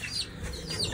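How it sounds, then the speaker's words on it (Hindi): Chicks and hens clucking close by in a cage, a steady continuous stream of soft clucks and peeps with no talking. "थोड़े चूजे मैंने उठा लिए और बाकी सनी भाई और अब्दुल्ला भाई लेके आ रहे हैं"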